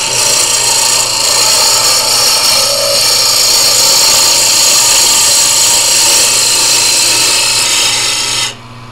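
Wood lathe spinning a pen blank while a chisel cuts it, a loud continuous scraping whir with steady motor hum that cuts off abruptly just before the end.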